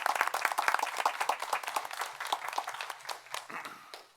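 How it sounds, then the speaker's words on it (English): A round of applause from the audience at a town board meeting in Irondequoit: dense, steady clapping from many people, fairly close and lively throughout. "If you'd like to stand up, if a round of applause,"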